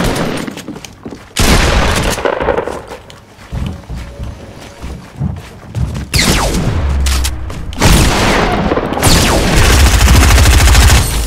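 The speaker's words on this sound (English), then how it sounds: "Getting sniped at." Rapid bursts of sniper and automatic gunfire crack loudly in a Fortnite solo match, heavy volleys coming in clusters with short quieter gaps between them.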